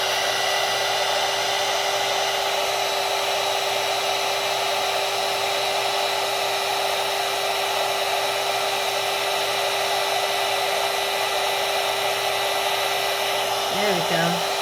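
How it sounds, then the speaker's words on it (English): An embossing heat tool blows steadily and loudly as it warms up, a continuous airy whoosh with a fixed motor hum that runs unbroken from start to finish, with no talking. "My heat tool's not been used, so it's got to heat up."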